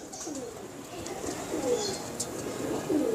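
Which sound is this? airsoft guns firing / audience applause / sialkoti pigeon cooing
sialkoti pigeon cooing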